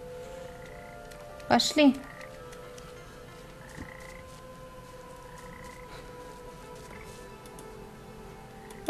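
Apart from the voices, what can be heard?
frog croaking in the video game Papo & Yo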